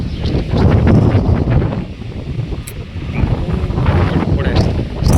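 Strong wind gusting across an open rural field during a sudden summer storm, loud and steady with buffeting roar on the microphone and brief dips, no talk.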